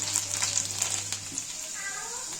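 Cumin seeds and garlic sizzle in hot oil in a pan while dal methi is cooked: a steady, close hiss of frying with a low hum beneath.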